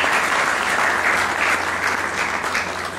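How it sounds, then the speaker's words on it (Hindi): Steady applause from a class of students at a gurukul in Kurukshetra, dense and even throughout, easing slightly toward the end. "तालियां बजा के इनका सेल्यूट होता है।"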